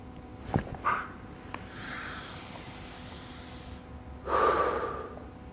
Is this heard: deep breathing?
yes